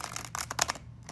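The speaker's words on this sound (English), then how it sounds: "I just want you to see what it's like to shuffle these cards." Halloween oracle cards being shuffled by hand, a short run of crisp papery riffles and flicks close up, with no talking.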